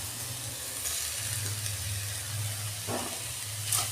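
Grated coconut and sugar cook in a kadai for Bengali fried semolina pitha, giving a steady, faint sizzle over a low hum, with a brief scraping stir near the end.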